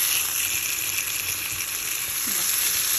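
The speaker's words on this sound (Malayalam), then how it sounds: "ആ സമയത്ത് തന്നെ നമുക്ക് ഈ ഓണിയനും ബാക്കിയുള്ള വെജിറ്റബിളൊക്കെ ഉണ്ട്, അതൊക്കെ ഒന്ന് വാട്ടിയെടുക്കാം." Onions and other vegetables sautéing in a hot oiled pan, a steady close sizzle and frying hiss with light stirring throughout, and no talking.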